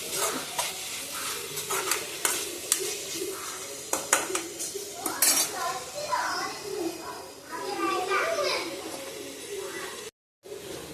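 Mint leaves are being stirred and sautéed in a pan, with soft sizzling and scraping of a utensil against the cookware, interrupted briefly near the end, while a person talks over the cooking.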